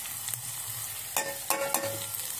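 Homemade chutney sautéing in hot oil for masoor dal, a steady crackling sizzle with a few sharper clinks of a spoon stirring the pan, no talking.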